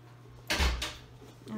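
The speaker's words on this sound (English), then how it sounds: "And I just closed the upstairs door" An upstairs door in a house closes with a single muffled thud and a short rattle, quiet against a faint background hum.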